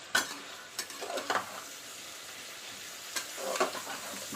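Chopped tomatoes hit a pan of softened onions for a mutton curry, giving a steady low sizzle with a few brief clinks and stirring scrapes scattered through.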